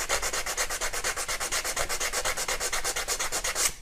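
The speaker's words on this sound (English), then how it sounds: "This is 240 sandpaper" Steady back-and-forth rubbing of 240-grit sandpaper for metal across a surface, a fast, even rhythm of close scratchy strokes that stops abruptly near the end.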